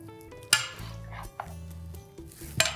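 Chicken stew being stirred in a big pot of water, with a few sharp clinks of a utensil against the pot over soft sloshing and scraping, close and fairly quiet.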